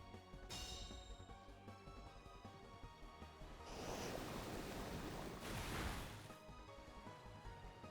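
A Muddy Water move effect from a Pokémon battle game: a rushing, surf-like watery roar under a music backdrop, swelling in two loud crashing bursts midway.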